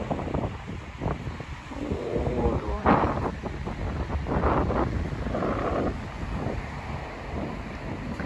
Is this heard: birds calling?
no